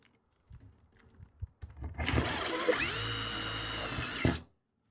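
A power drill whirs steadily as it drives a self-drilling screw with a drill-bit tip into the steel frame of a cargo trailer, rising to one sustained loud run of several seconds after a few short starts.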